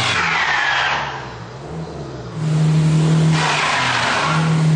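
A car with traction control switched off skids on ice, its engine droning and tires hissing in a loud continuous wash that dips briefly, then surges back with a steady revving tone, with no voices.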